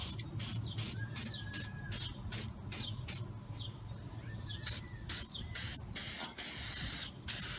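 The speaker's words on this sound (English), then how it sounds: "just some black spray paint" Black spray paint hisses from an aerosol can in a run of short bursts with brief gaps between them, close and loud, and no one speaks.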